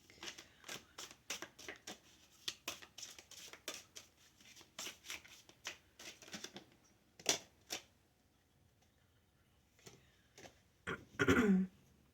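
Tarot cards being shuffled by hand, a long run of soft quick riffles and snaps, then a few isolated taps and a brief louder rustle near the end.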